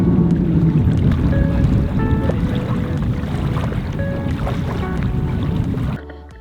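Loud, steady rush of wind and water around a Guépard sailboat moving at sea off Brittany, with faint creaks and tones, cutting off abruptly near the end.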